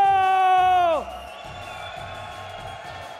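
Crowd cheering at the Revision 2015 demoparty shader showdown finals: a loud, tonal whoop holds for about a second, then sweeps downward and gives way to a steady, quieter roar of voices.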